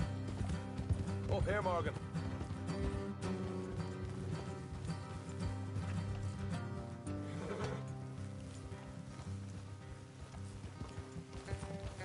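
Horses ride along a road in a video game, with rhythmic hoof clopping under a bed of game music, while a voice speaks briefly early on.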